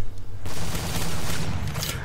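Rapid, loud gunfire from a Modern Warfare 3 weapon in a Minecraft zombies challenge, a dense burst of shots filling the whole short stretch with no talking.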